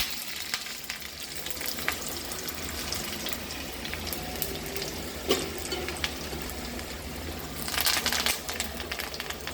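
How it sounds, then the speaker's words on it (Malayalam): Mustard seeds and onion frying in hot coconut oil in a pan, a steady loud sizzle with crackling throughout, no talk. "വെളിച്ചെണ്ണ എടുപ്പത്ത് വെച്ച് ഒരു നുള്ളിൽ കടുകിട്ട് കൊടുക്കണം ഉള്ളി വറുത്തെടുക്കാം"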